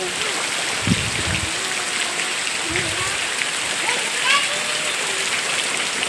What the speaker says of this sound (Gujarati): અમારા ગામમાં એટલો બધો વરસાદ પડ્યો છે